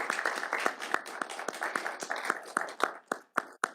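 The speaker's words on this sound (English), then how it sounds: "Round of applause for Essex Porter." Applause from a small audience at a Washington state governor's COVID-19 briefing, steady close hand claps that thin out into a few last separate claps near the end.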